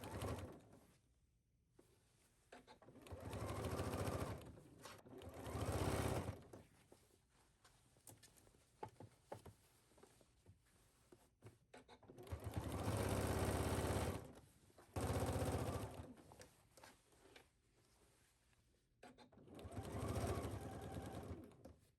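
A sewing machine understitches the lining of a bodice in several bursts of rapid stitching separated by short pauses, close up and moderately loud.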